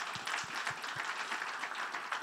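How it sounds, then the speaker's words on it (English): Audience applause at a healthcare IT summit, a brief steady patter of many hands clapping at moderate distance, fairly quiet, with a few low thumps and no talk over it. "please give them a round of applause as well"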